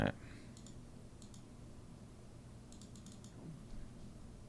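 A few sparse computer mouse clicks during office software work, faint and spaced apart over a quiet room hum, with a couple of soft click clusters near the start and middle.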